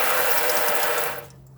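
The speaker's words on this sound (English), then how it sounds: "we've got water coming out of everywhere on board the van now, and the shower as well" Water runs from the taps and shower in a 2003 Bailey Pageant Monarch caravan, a loud, steady rushing flow with faint mechanical clicks that stops abruptly near the end.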